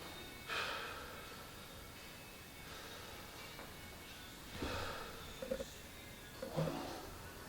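A patient takes deep breaths during a physical chest examination: a few soft, airy inhalations spaced seconds apart, faint and close in a quiet room.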